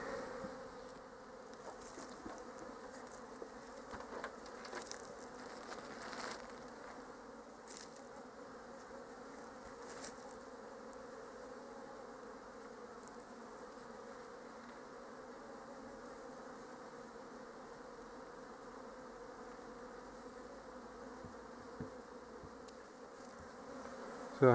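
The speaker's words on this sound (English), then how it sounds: "bees all over this." Honey bees swarm over a beehive box outdoors, a continuous close buzzing hum from many insects that holds steady and alone, with a few louder individual passes near the microphone.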